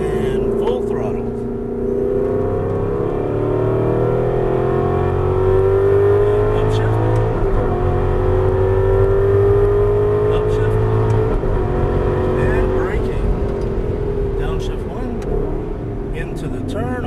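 An Aston Martin V8 Vantage on a coned driving course accelerates at full throttle, its V8 note climbing steadily in pitch through a long pull, loud and close.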